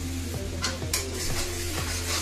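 Rui fish curry spices — coriander, chilli and turmeric powder with water — stirred in a pan, a spoon scraping in a few soft strokes over a steady low simmering hiss.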